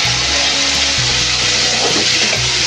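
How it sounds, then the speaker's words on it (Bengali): Prawns frying in hot oil, in the same oil just used for ridge gourd, make a loud, continuous close-up sizzle that hisses steadily with no talk. "এই তেলে চিংড়ি মাছটা একটু ভেজে নেব।"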